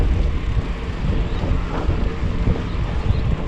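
A cold wind at Pasir Ris Park, Singapore, buffets the microphone with a loud, continuous low rumble and gusty roar, with no voices heard.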